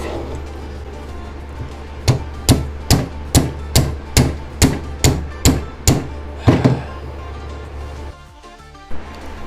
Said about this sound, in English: Hit it with a hammer and just see if it does anything